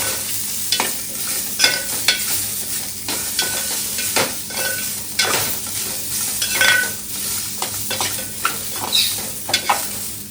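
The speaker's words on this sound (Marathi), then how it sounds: "थोडक्यात हलकोसो मंडळी तेलात परतून घ्यायचो फक्त बस" Raw mango pieces sizzle in hot oil in a pan for a South Indian style pickle, with a steady fry broken by repeated spatula stirs and scrapes, and no voices.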